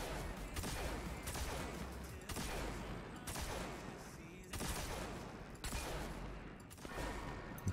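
A machine gun in Destiny 2 fires in repeated long bursts, a dense rattling fusillade broken by short gaps, steady and fairly loud throughout.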